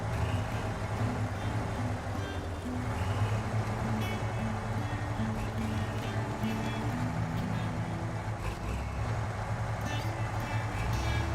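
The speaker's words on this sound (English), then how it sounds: "This thing has such a glorious engine sound," A heavy truck in the off-road video game Snowrunner, set in Alaska and driven on hard mode, gives a continuous loud droning engine rumble that stays steady throughout, with no one speaking.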